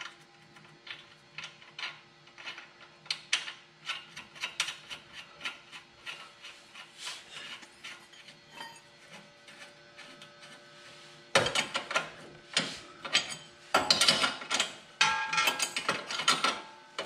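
A ratchet clicks rapidly as it tightens a nut on a Toyota Corolla control arm, bursts of close metallic pawl clicks that grow louder and denser in the second half.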